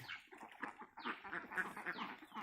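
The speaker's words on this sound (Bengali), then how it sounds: "আচ্ছা এই যে ডিমের হাঁস এই ডিমের হাঁস" A flock of egg-laying ducks on a farm quacking continuously, many overlapping calls close by in a busy, chattering chorus with no voices.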